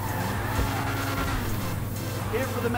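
A supercar engine in GTA 5 bouncing off the rev limiter, a steady buzzing, stuttering drone with tire noise underneath, while someone talks over it.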